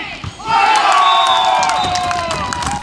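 Football supporters cheering at a village championship match, a loud crowd roar with whoops and shouts that swells after a brief lull and holds steady, with no clear speech.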